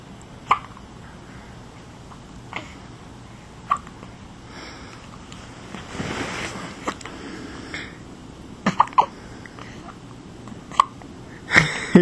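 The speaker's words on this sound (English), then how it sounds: "She's got the hiccups." An infant's hiccups, short sharp bursts spaced irregularly a few seconds apart, close and fairly soft against quiet room tone, with several in quicker succession near the end.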